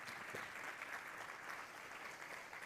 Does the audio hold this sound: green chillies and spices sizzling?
no